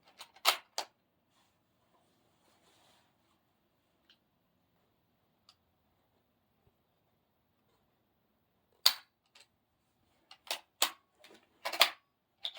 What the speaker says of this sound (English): 3 shots each, and we'll see how they do.